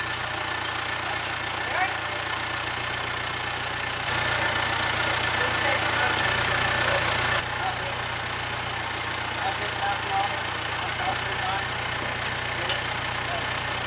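A tractor drives a slurry mixer breaking the crust on a slurry tank, giving a steady, loud mechanical engine drone with a rough churning texture that runs continuously throughout.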